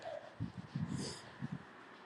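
A dog beside a canal gives a few soft, short whimpers and muffled yelps in quick bursts, fairly faint and somewhat distant over quiet outdoor background.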